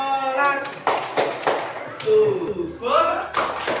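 A class performs the tepuk sholat hand-clap chant, with sharp rhythmic claps and taps mixed among voices chanting and speaking in a classroom.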